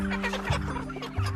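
Pasture-raised chickens cluck on a regenerative poultry farm, a close, continuous chorus of low, throaty clucks from several birds over a steady background hum.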